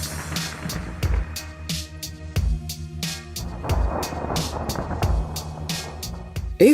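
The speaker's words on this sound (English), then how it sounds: "Look at how the electric discharge attacks the Soyuz rocket." Lightning discharges strike a Soyuz rocket in a storm, heard as a series of sharp, loud crackling cracks and booming thunder repeating irregularly over a steady rumbling, rain-like wash.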